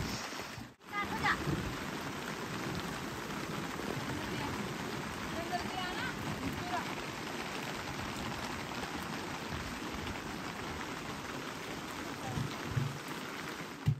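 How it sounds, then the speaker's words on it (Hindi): Steady rain hisses down on surfaces nearby, a dense, unbroken patter with faint voices and occasional small knocks underneath. "बारिश तो रुक नहीं रही यार,"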